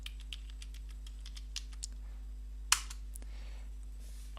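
Keystrokes on a computer keyboard entering a password, a series of quiet, sparse clicks spread out at irregular intervals, with a sharper clack near the middle and a low steady hum underneath.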